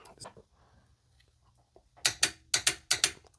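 A torque wrench ratchets and clicks loudly in a quick cluster of sharp snaps while tightening a cylinder head bolt on a 1997 Jeep Grand Cherokee ZJ engine, after a quiet stretch of faint murmuring.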